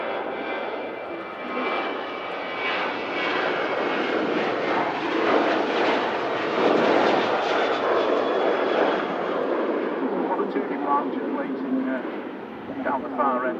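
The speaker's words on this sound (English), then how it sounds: "Airbus A380 with the Rolls-Royce Trent 700 engines" Jet aircraft engines roar at Manchester Airport, including an Airbus A380 with Rolls-Royce Trent engines, a loud broad rumble that swells and fades slightly over about fourteen seconds.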